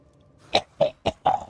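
Four short, raspy coughs in a row from a man after taking a big dab, close and fairly loud, each burst separated by a brief pause.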